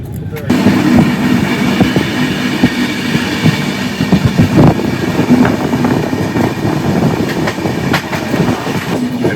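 The Saraighat Express train runs on a short journey, its loud, steady rumble and clatter of wheels on rails continuing close up from start to finish.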